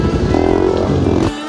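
A Hero Xpulse motorcycle fitted with a rally kit is ridden at a steady pace. Its engine drones loudly and evenly, up close, then drops off abruptly near the end.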